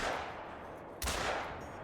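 A Cacciatore rifle fires a single loud shot in theHunter: Call of the Wild, a sharp broadband crack with a brief boom about midway through, set against steady background ambience.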